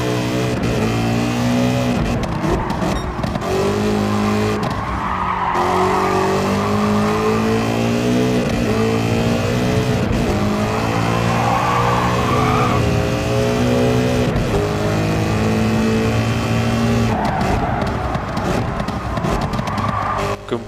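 A racing car engine in a video game revs up and down repeatedly, loud and close, with tires squealing and skidding between the gear changes.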